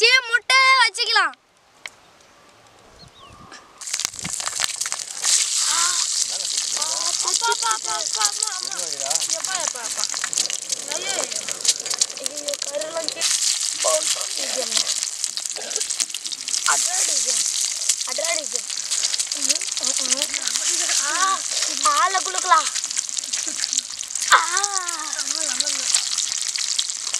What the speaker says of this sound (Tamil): எண்ணெய் சூடாயிச்சு, முட்டை வச்சுக்கலாம்.